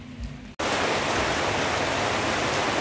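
Heavy rain pours at a resort, a dense, loud, unbroken hiss that cuts in abruptly after a brief quieter moment and then holds steady throughout.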